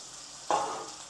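Onion, scallion and carrot hit a hot pan and burst into a sudden sizzle that holds steady for a moment, close and fairly quiet.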